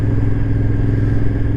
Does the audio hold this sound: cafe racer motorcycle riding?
yes